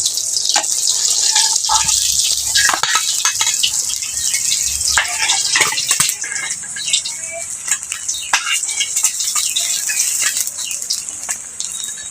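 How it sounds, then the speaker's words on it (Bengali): Remaining chepti fish frying in hot oil, a steady broadband hiss and crackle with scattered sharp pops throughout, close and fairly loud with no talking. "বন্ধুরা বেঁচে থাকা মাছগুলো এখন আমি সেম একইভাবে ভেজে নেব"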